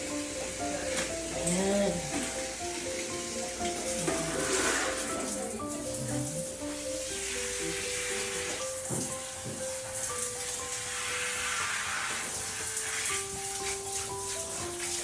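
Steady hiss of shower water spraying runs throughout, with voices talking over it.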